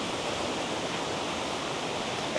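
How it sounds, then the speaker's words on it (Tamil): A mountain stream near a tribal hamlet in Kurangani, Tamil Nadu, rushes steadily in a dense, even wash of flowing water, close and constant with no voices. "அருமையாக தண்ணி வருதுங்க."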